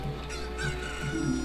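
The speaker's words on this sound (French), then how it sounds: "Puis avec la poule, peut-être." Chicken clucking from the game Zelda Ocarina of Time, a few short squawky clucks repeating over a steady game background with no voices.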